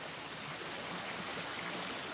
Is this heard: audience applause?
no